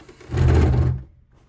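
A sewing machine stitches a tote bag in one short burst of rapid motor-driven stitching, close and fairly loud, then stops abruptly into near silence.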